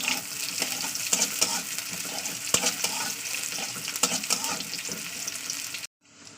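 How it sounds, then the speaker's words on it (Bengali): An onion frying in hot oil in a wok gives a dense, steady sizzle, broken by scattered clicks and scrapes of stirring, close and loud, then cutting off abruptly near the end, with no talking. "তেলটা গরম হয়ে গেলে আমি দিয়ে দিলাম একটা পেঁয়াজ পেঁয়াজটাকে একটু লালি করে ভেজে নেবো"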